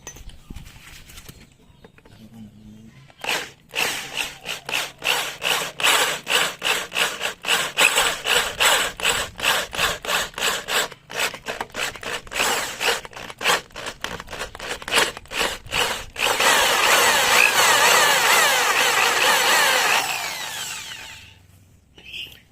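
Power drill fitted with an 8mm bit boring a hole while installing a dual shock conversion kit, heard as a loud steady grinding whir in repeated bursts, rising to a continuous harsh drilling sound before stopping.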